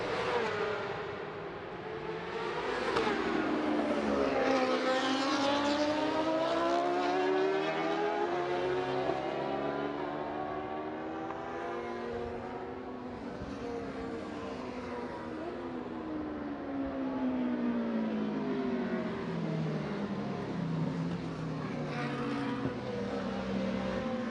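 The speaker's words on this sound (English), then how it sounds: "The bikes just gently making their way into position." Racing motorcycles at the Macau Motorcycle Grand Prix street circuit roll into grid position, several engines droning and revving together with rising and falling pitch sweeps, steady and fairly loud throughout with no talk.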